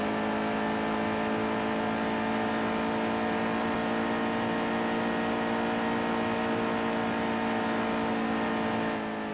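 Race car engine screaming at sustained full throttle in the NASCAR Heat 2 video game, a loud steady high-revving drone with layered harmonics that holds for the whole stretch without pause.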